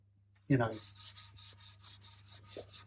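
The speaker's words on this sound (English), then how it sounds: "I could scrub at this to try and get it" Grain filler is scrubbed off a guitar body with a cloth, a soft, close series of about ten rhythmic rubbing strokes after a brief bump at the start.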